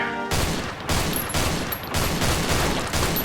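A video-game gun that fires two projectiles per shot booms in a series of loud, closely spaced blasts, each one a broad burst separated by short gaps, with no voice over it.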